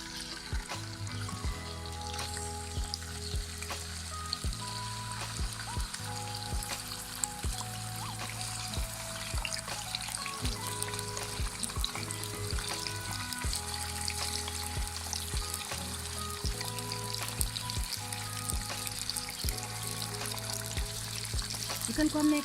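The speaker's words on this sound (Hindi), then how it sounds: "चिकन को हमने कढ़ाई में डाल दिया है।" Chicken pieces frying in a kadhai for a village-style chicken recipe, a steady broad sizzle running throughout with low humming background tones and occasional clinks, fairly close.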